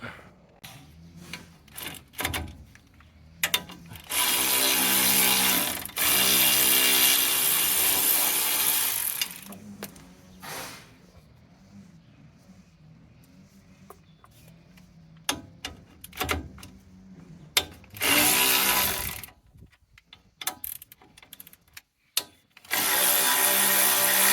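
Ratchet on 12 mm bolts of a Ford Courier upper control arm, bursts of rapid clicking alternating with pauses and clanks, loud and close.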